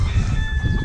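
An Icelandic hen clucking on a farm, short close calls over a busy farmyard bed of other birds and low rumble.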